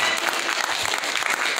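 A church congregation at a recovery service claps in a short, dense burst of applause that stays steady throughout.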